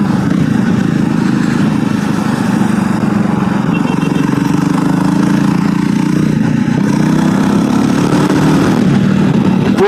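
A Jawa Perak motorcycle engine drones steadily while the bike is ridden, a loud and continuous mid-pitched hum with wind rush that holds at an even level throughout.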